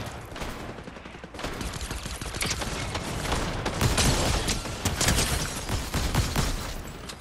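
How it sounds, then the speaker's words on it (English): Dense, continuous gunfire in the Fortnite video game, overlapping rapid bursts and shots sustained throughout at moderate loudness with no talk. "Shooting each other"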